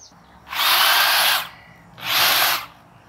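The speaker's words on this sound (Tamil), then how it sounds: "இப்பதான் ஹெட்ஜஸ் எல்லாம் கட் பண்ணிட்டு இருக்காரு" A powered hedge trimmer cuts overgrown garden hedges, giving two loud buzzing bursts of about a second each separated by a short pause, fairly close.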